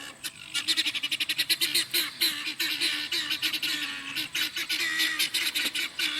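Yard birds honking in a rapid series of nasal, goose-like calls, several overlapping and fairly close, continuing without pause and without speech.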